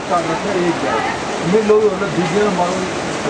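Rain falls on pilgrims walking the mountain trail to Kedarnath as a continuous broadband hiss, with voices talking over it nearby.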